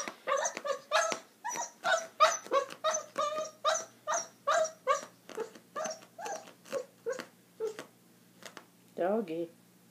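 A dog gives a rapid string of high whimpers and short yips, steady and close, ending in a drawn-out whine.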